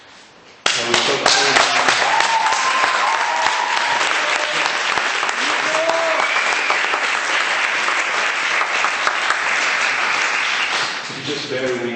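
Steady, dense applause from an audience at a university public speaking final event starts abruptly and carries on for about ten seconds, loud and sustained, with scattered voices underneath before it tapers off.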